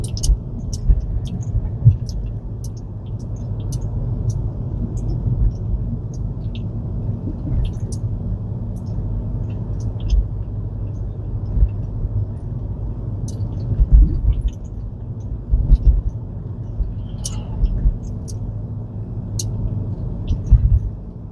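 A car drives along 10th Avenue through Honolulu streets during a rideshare trip, its steady low engine and road rumble continuous and close, with occasional faint bumps and passing traffic noises.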